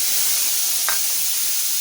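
Onion paste frying in very hot oil in a home kitchen gives a steady, dense sizzling hiss throughout, with one brief sharper spurt near the middle.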